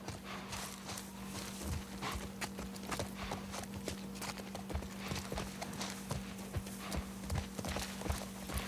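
Horse hooves clip-clopping in The Last of Us Part 1 video game, a steady walking rhythm of hoof strikes over a constant low hum, moderately close, with no speech.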